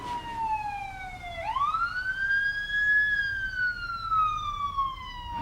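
An ambulance siren wails continuously, sweeping down then up in a long tone, loud and fairly close with faint road noise underneath.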